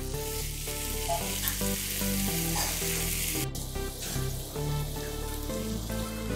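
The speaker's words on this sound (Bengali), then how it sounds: "মশলাটার সাথে আলুগুলো দিয়ে আবারও ভেজে নেব" Potatoes frying with spice paste for a potato curry, a loud, dense sizzle throughout with a sharp crackle midway, accompanied by steady tonal background music and no speech.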